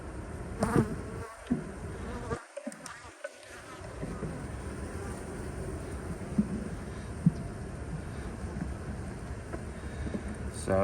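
Honey bees buzz in a steady, dense drone at an open fall hive with hatching brood and a full top box, with a few brief handling knocks early on.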